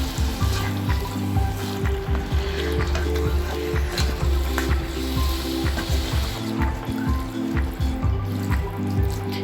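Three quarters of a kilo of minced meat sizzles and spatters in oil in a pan, a steady frying hiss with repeated scraping and stirring knocks.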